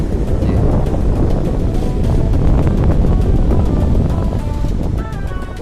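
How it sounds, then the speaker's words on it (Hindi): Rushing river water pours steadily over rocks, a loud continuous broadband roar close by with no pauses. "पानी के बहाव का एक अलग ही आवाज़ रहती है। ये देखिए आप सुनाई दे रही होगी।"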